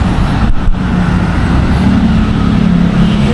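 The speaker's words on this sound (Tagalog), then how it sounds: "EDSA traffic." Dense road traffic on EDSA in Manila near EDSA Central, a loud continuous rumble of cars, buses and trucks with engine drone rising and falling and no clear voices.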